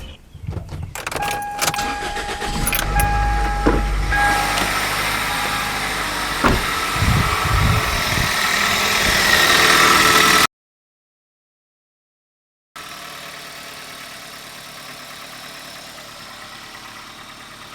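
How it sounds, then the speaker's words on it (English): A car engine cranks with sputtering bursts, catches, and settles into a steady idle after a break-in oil change; after a brief silence the idle continues more quietly. "We'll crank the engine."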